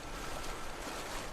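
Rushing water from a torrent in Skyrim, a steady, broad, soft hiss of flowing water that holds evenly through the short clip, with no talk.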